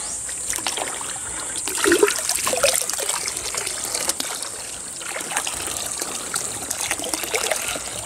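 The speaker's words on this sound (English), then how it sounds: "Just going to water them all" Water pours and trickles steadily over seedlings in a garden row, a continuous splashing stream close by with small fluctuations in flow and no talk over it.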